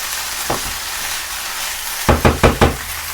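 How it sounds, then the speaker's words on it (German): Food stir-fries steadily in a pan with sauce, with a short scrape near the start and a quick run of four scraping strokes toward the end. "dann jetzt alles in einer Pfanne nochmal anbraten mit Soße rein"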